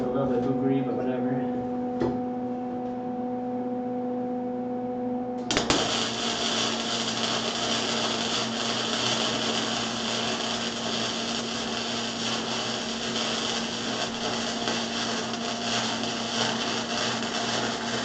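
A flux core welder working on a Volksrod: after a few seconds of low electrical hum, a dense, continuous crackling hiss starts abruptly and runs steadily to the end, close and fairly loud.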